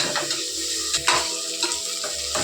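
Onions sizzle in a pan while being stirred for a coconut milk veg pulao, a continuous loud frying hiss broken by repeated scraping strokes of a spoon.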